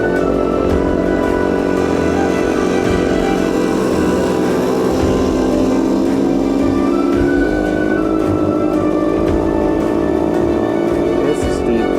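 A Honda CT90 motorcycle engine labours loudly in first gear up a steep Moab trail, a continuous close drone with a shifting pitch, with brief voices in the background.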